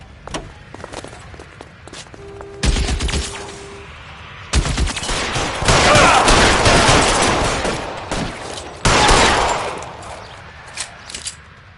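Gunfire in the video game L.A. Noire: loud, dense machine-gun bursts and single shots roar in long volleys with brief pauses, close and dominant throughout.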